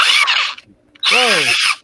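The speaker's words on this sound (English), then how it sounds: "Whoa! Power drill." A power drill whirs loudly in two close bursts, the second spinning up with a rising whine and then cutting off sharply.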